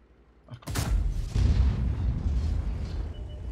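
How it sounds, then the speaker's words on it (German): A tank cannon fires once in World of Tanks, a sudden loud boom followed by a long rumbling roll of battle ambience that fades slowly. "Diesen Schuss, den ich gerade getätigt habe, der hat 8000 gekostet."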